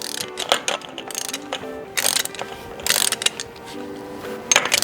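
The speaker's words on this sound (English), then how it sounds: "we're gonna go ahead and torque down our main adjusting nut to 43 foot-pounds" A ratchet wrench torques the main adjusting nut on an FJ80 front differential, giving several short bursts of rapid metallic clicking with brief pauses between strokes, close and clear with no talking.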